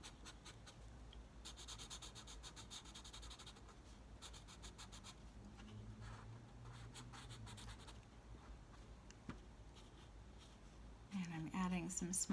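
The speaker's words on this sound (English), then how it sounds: "we're drawing and coloring the tree in as we're making a" A pencil colours in a tree drawing in quiet bursts of scratchy back-and-forth strokes, heard close but faint, with a louder rustle at the end.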